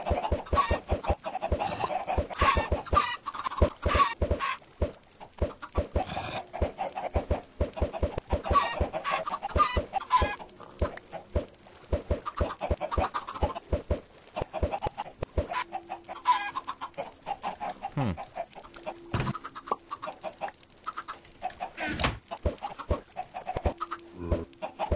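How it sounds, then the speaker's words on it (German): Many chickens in the Minecraft modpack Feed the Beast cluck and squawk in a busy, overlapping chorus, with sharp clicks throughout and a few short tones near the end. "So viele Hühner."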